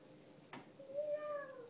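A person imitates a cat with a single drawn-out meow, soft and close, preceded by a brief click.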